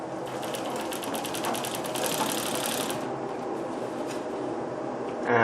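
A Singer 24-52 sewing machine, a chain-stitch model with a looper, set to a shorter stitch length, runs in a fast, even mechanical clatter for about three seconds. It then idles quietly before a sudden louder clunk at the end.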